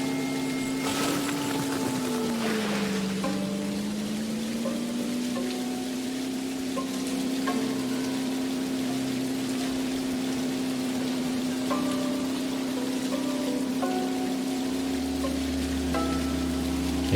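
Rain falls in the video game Dinkum, a soft steady patter under a sustained humming drone, with faint scattered game effects; no talk.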